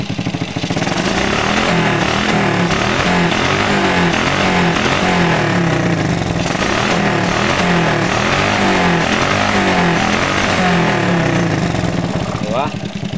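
A motorcycle engine fitted with a Smash 110 carburetor runs close and loud at a steady, even idle with no misfiring, a continuous throbbing drone throughout while someone talks over it.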